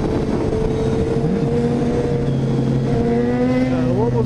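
Engine of a 2010 Kawasaki Z 750 motorcycle running steadily up close, with rising harmonic tones as the revs climb toward the end.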